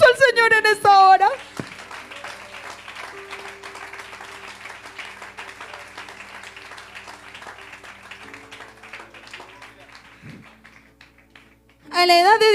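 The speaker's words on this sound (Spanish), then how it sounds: "Dele ese aplauso al Señor en esta hora." A church congregation applauds for the Lord during a service, a steady low wash of clapping under a soft sustained tone, with a voice speaking briefly at the start and again at the end.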